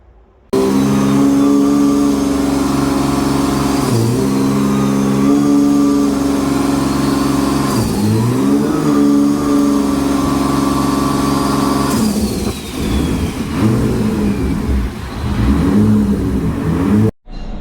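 A Toyota Supra 7MGE engine fitted with a Holset HX52 turbo runs on a dyno during run-in, a loud, sustained mechanical drone with repeated rises and falls in revs and no speech.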